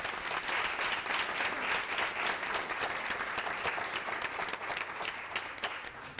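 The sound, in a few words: audience applause at a school board meeting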